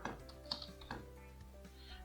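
Someone types code on a computer keyboard, a quick run of light, uneven key taps close by, with no talking over it.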